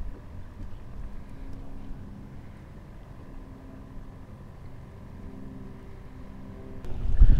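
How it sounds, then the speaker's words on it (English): Strong wind buffets a small fishing boat out on Tampa Bay, a steady rushing roar with low-end rumble that swells into loud gusts at the end, no voices. "Wow, it's windy."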